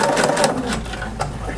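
A sewing machine back stitches across grosgrain ribbon for a pacifier clip in a short, close run of rapid mechanical whirring and needle chatter, while a voice talks over it.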